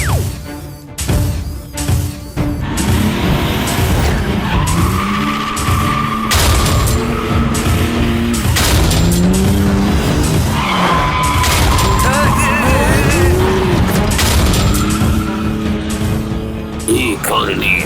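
A cartoon car skidding and spinning in a kids' animated movie, with repeated tire squeals and whooshing swerves, punctuated by sharp impact bangs, loud and close under excited cartoon voices and music.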